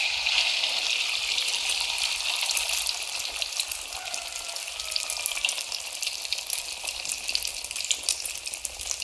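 Eggs frying in a hot pan at home give off a loud, continuous crackling sizzle, close up and unbroken, with no talking.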